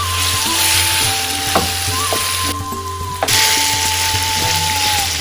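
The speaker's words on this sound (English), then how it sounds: "I'm going to stir fry this for a few minutes." Tandoori chicken spring roll filling with ginger and garlic stir-fries in a hot pan, a loud, steady close sizzle with intermittent scraping stirs over a faint steady hum.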